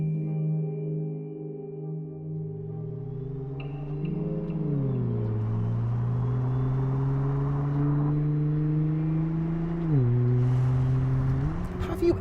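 Bronze 2017 Nissan GT-R sports car driven slowly on a public highway, its engine giving a steady, close, moderately loud drone that rises and shifts in pitch as it changes gear.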